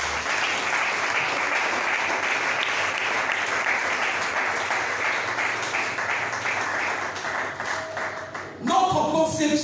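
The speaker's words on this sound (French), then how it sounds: "Est-ce qu'on peut acclamer le Seigneur?" A church congregation applauds to acclaim the Lord, with loud, sustained clapping that fills the room for several seconds before voices rise near the end.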